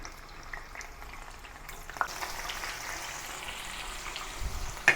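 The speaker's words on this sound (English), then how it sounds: "brown the tofu on both sides" Slabs of firm tofu browning in a frying pan give a soft, steady sizzle and crackle, quiet and close, growing a bit busier partway through with a few small pops.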